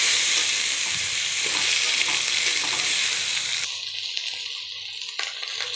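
Vegetables frying in a pan make a loud, even sizzle that suddenly drops to a quieter, thinner crackle partway through, then carries on softly with light stirring, with no voices.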